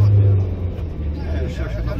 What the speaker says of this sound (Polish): Fajnie się jedzie takim wysokim autem